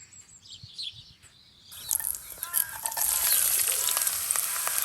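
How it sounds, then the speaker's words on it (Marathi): Onion hitting hot oil for a Goan seafood curry, starting with quiet bird chirps and soft rustles, then bursting into a loud, steady sizzle that holds to the end. "आता कांदो घालता. तेल गरम जाल्ले आसा."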